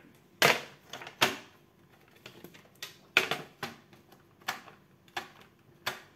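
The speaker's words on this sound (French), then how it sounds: "je reprends mon massicot" A massicot paper trimmer cutting through paper for card making: a series of sharp, crisp chops and clacks at irregular intervals, some louder and some lighter, with quiet pauses between strokes.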